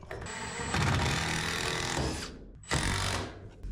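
A power drill drives 3-inch screws up into a plate in a shipping container workshop, two loud whirring bursts, the first long and the second short, separated by a brief pause.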